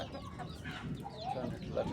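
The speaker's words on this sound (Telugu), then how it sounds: "మొత్తం కోడి పిల్లలు తీసింది" A hen clucks softly close by while faint high peeps of chicks chirp intermittently, with quiet background noise.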